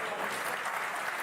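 Audience applause at a political rally, a steady wash of many hands clapping at a moderate level across the whole moment.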